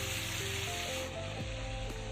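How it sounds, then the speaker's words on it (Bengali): Fried shola kochu (taro) and potato go into a pan of sizzling spice paste and oil, with a steady close sizzle and a brief clunk as the pieces land. "এবার আমি ভেজে রাখা শোলা কচু আর আলুটাকে দিয়ে দেব।"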